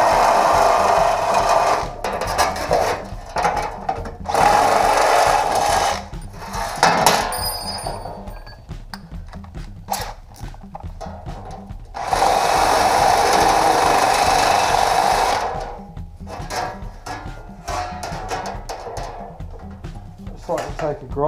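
Power drill boring an intermediate hole, with loud sustained grinding whirs in two long bursts, broken by pauses and scattered clunks and knocks of the tool.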